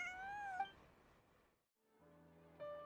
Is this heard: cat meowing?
yes